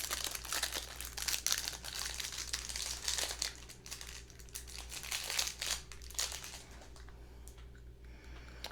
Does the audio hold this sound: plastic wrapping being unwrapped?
yes